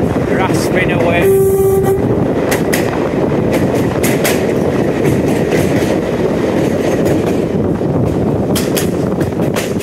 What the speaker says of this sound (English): the old clickety-clack of the rails